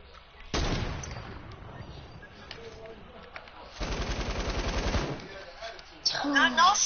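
Video game gunfire during a team match, rapid automatic bursts firing in two loud volleys with a sharper burst at the end, heard alongside game sounds with no one speaking.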